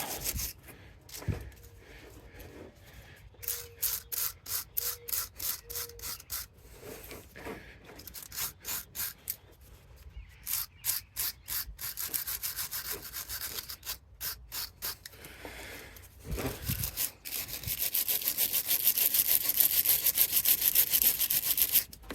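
Rhythmic rasping strokes scrape across a hard surface of a riding mower, coming in bursts and pauses, then speeding into a fast, steady grinding scrape near the end.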